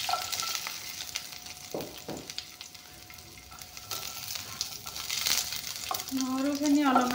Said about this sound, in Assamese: নহৰুখিনি অলপমান ভাজি ল'ম।